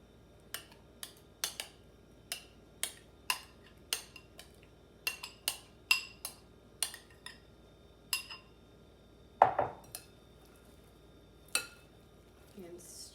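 A utensil stirs coleslaw and its dressing in a bowl, making a string of sharp clinks and taps against the side at an uneven pace, with one short burst of voice partway through.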